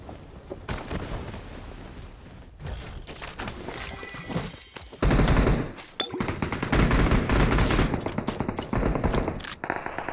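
Gunfire rings out in the mobile battle game BGMI during a squad fight: sharp automatic bursts and scattered single shots, some close and loud, others distant, with dense rapid volleys in the second half.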